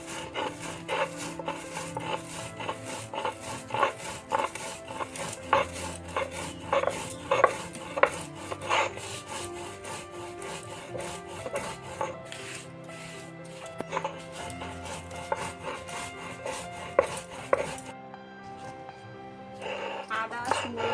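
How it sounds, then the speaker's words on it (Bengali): Cumin seeds being ground by hand, a steady scraping and rubbing rhythm with repeated knocks, continuing for a long stretch at close range. "প্রথমে জিরাটা আমি গুঁড়ো করে নিচ্ছি।"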